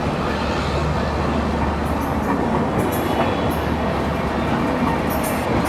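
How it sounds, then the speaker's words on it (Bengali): The Kolkata–Dhaka Maitree Express at Bangabandhu Bridge East station makes a steady, loud, low rail rumble with faint clicking, continuous and close. "বঙ্গবন্ধু সেতু পূর্ব স্টেশনে দেখা হয়ে গেল কলকাতা ঢাকা মৈত্রী এক্সপ্রেসের সঙ্গে।"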